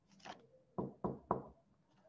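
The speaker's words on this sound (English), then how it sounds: "Just then, there was a knock on the door." Three crisp knocks on a wooden door sound in quick succession, close and fairly clear against a quiet background, following a faint earlier rustle.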